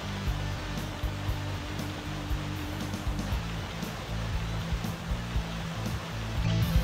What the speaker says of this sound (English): We'll flood Fan Castle with a water attack.